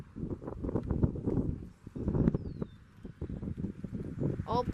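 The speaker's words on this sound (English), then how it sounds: "But it is pretty windy." Gusty wind buffets the microphone outdoors during a thunderstorm under a shelf cloud, in loud uneven rumbling surges with a brief lull near the middle, as a voice speaks over it.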